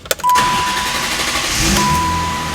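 A 1990 BMW 325i engine cranks and fires on its first start: a short burst of starter whirring, then a loud, steady idle that holds on close by, with a thin tone running over it.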